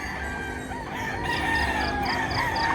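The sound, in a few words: roosters crowing at a chicken market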